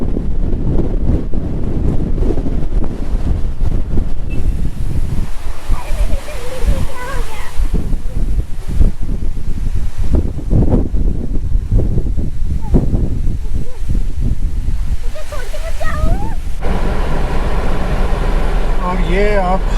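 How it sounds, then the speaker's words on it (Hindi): Strong gusty wind sweeping over village crop fields as a storm approaches, heavy buffeting roar on the microphone throughout, with someone talking over it at times. "एकदम तेज हवाएं चल रही हैं"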